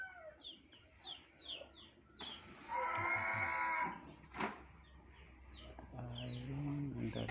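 Cattle low inside a tidy farm shed where they are being fattened, a long moo rising midway, with hens clucking and birds chirping around it at a quiet distance.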